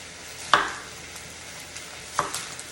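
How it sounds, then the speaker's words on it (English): A knife dicing onion on a cutting board for an omelet and hash brown breakfast: two sharp, close chops about a second and a half apart, with faint sizzling behind them. "You want to dice up onion."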